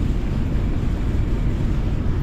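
The Raptor's boat engine runs smoothly without trouble, a loud steady low rumble with wind-like noise, continuous and close, no talking.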